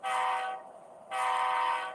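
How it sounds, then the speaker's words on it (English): A model train locomotive's sound decoder blows two long whistle blasts with a short gap between them, loud, bright and close, alone without talk. "So now I'm going to go ahead and blow my whistle signal"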